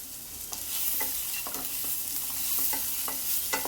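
Cashews fry in a pan as they are stirred, producing a bright, constant hiss of sizzling oil with soft rhythmic scraping and tapping of a spoon, close and steady, no one talking.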